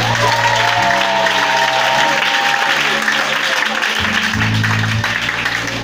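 Applause from a church congregation fills a worship service, a steady wash of clapping with organ or keyboard tones underneath, continuous throughout.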